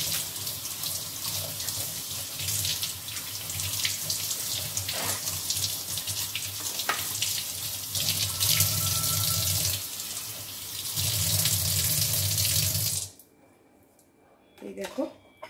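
Tap water runs steadily as a bottle is rinsed under it, splashing and changing tone as the bottle moves, then cuts off near the end, with someone talking over it.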